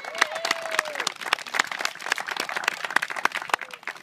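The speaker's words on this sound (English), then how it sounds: "So I think the parents and coaches and our girls should be giving you guys a round of applause." Parents and coaches at a girls' sports tournament give a round of applause in a hall, a crowd of scattered, sharp individual claps ringing out close with a few voices beneath.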